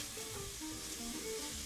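Onion sautéing in a pan for a Brazilian shredded beef dish gives a steady, close sizzle and crackle with soft stirring, with no talk.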